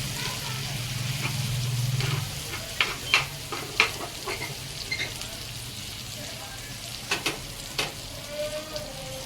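Bangda mackerel fish frying in oil for a crispy fry sizzles steadily, with a louder burst early on and then scattered sharp pops and spatters over a soft hiss; no one speaks.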